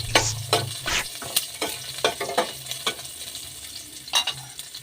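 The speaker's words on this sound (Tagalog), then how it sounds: "ginisa-gisa na niya yung bawang at sibuyas" Garlic and onion sautéing in a pan, a loud close sizzle under repeated rhythmic spatula scrapes and stirs, roughly two strokes a second.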